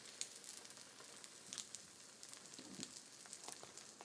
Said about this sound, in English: So you get that little sizzle.